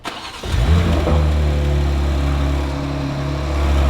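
A BMW G87 M2 engine cranks and catches, then settles into a steady, close, throaty idle with a slight rise and dip in revs.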